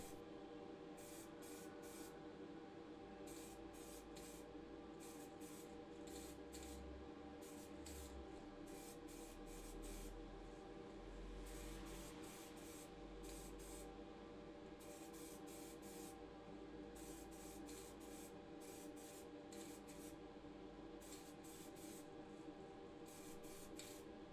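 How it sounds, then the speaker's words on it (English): White primer from an AK Interactive spray sprayed onto Lesney Matchbox diecast models, a Fiat 1500 and a trailer caravan, heard as a soft, steady hiss broken by regular short bursts throughout, faint and alone. "I prime both models with AK Interactive White Primer."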